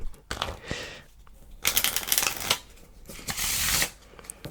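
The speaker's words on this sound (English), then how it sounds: "So I will begin by giving the deck a shuffle." Several bursts of cards being riffled and shuffled, crisp papery flutters at close range separated by short pauses, with no talking.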